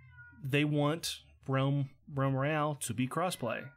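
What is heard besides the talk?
cat screaming at the door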